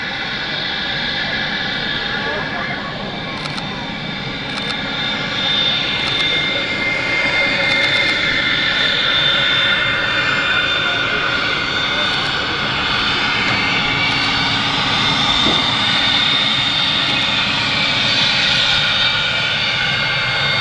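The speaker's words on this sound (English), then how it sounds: "Look how low the aircraft is to the ground." A jet airliner with Portuguese registration passes low over the ground at Manchester Airport, its engines producing a loud, sustained roar and whine that holds steady throughout, heard alone without talk.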